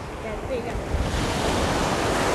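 Sea waves rolling onto the beach at Bagoush in Sidi Heneish, a continuous broadband wash of surf mixed with wind buffeting the microphone, loud and steady throughout without speech.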